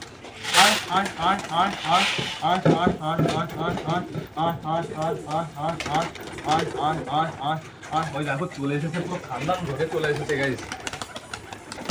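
Pigeons, including young ones, coo repeatedly in rhythmic bursts close by as they are fed on a rooftop, several birds overlapping, with a person talking intermittently among them.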